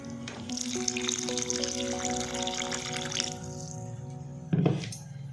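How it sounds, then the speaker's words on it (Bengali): A little water poured into a pot of boiled mung dal, a steady trickle whose pitch rises as it fills, ending with a brief louder splash. "অল্প পানি দিয়ে দেবো।"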